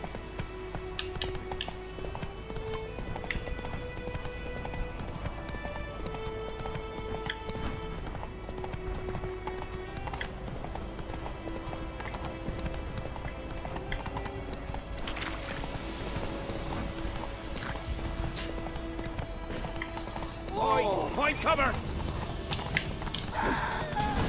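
A horse gallops at length in The Witcher 3 video game, with continuous rhythmic hoofbeats under sustained tonal game music and occasional brief mechanical clicks.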